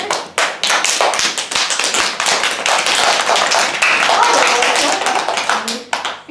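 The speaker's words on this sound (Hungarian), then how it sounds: "Most csapd össze a két tenyered." A group of children clap their hands together in a rapid, dense burst of many overlapping claps, close and loud, with a voice briefly audible.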